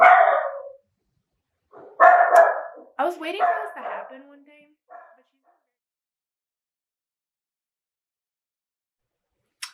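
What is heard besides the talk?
dog barking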